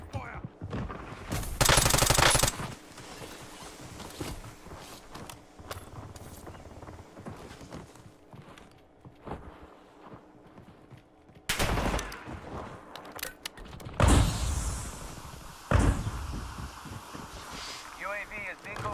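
Gunfire in a Warzone match: a loud burst of rapid shots, then scattered single cracks and more heavy bursts later, between quieter stretches.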